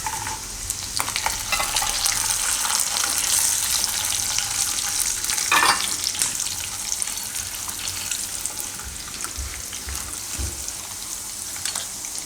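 Raisins frying in a pan for kela poha, a Gujarati banana and flattened-rice snack, give a steady close crackling sizzle throughout with faint stirring scrapes and no talk.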